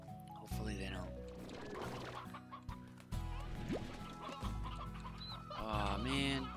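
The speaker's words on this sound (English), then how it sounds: "I'm putting these painted hens in there" Painted hens in the farming game Slime Rancher cluck in short bursts over a dense layer of game music and effects, moderately loud and repeated throughout.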